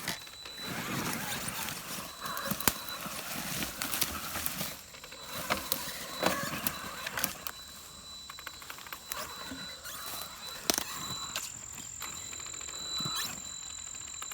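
A Traxxas Summit 1/10 RC truck converted to brushless power crawls over rough ground with its differentials unlocked. A thin electric motor whine runs alongside sharp clicks and knocks from the drivetrain and from the wheels striking obstacles at close range.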